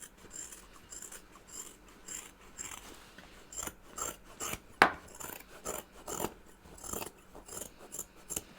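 Scissors snip steadily through a sewn fabric seam, trimming it down to a quarter inch on a chicken-boots project bag: quiet, close, repeated crisp cuts in an irregular rhythm.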